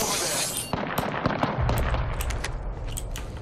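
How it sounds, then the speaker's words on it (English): Bursts of gunfire from the video game Apex Legends, several sharp shots and short volleys in quick succession, loud and close, mixed with other game sounds. "He's shooting at somebody."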